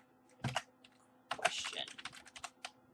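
Keys tapped on a computer keyboard while entering event text in RPG Maker XP, with a short burst of close, clicky keystrokes followed by a longer run of quick irregular typing.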